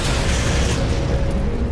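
A deep, heavy explosion booms and rumbles continuously, loud and close, with no voices, in Halo 4.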